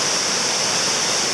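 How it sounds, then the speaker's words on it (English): A powerful waterfall, flowing aggressively, roars near a hidden geocache outdoors: a steady, dense, unbroken rush of water that fills the whole clip at a constant loud level. "the noise that you hear in the background is the waterfalls"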